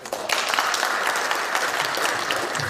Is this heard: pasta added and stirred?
no